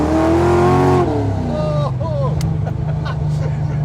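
A 1980 Chevy Camaro Z28 restomod with a gear drive accelerates at half throttle, its engine drone rising in pitch for about a second before easing to a steady rumble, heard from inside the cabin with people talking over it.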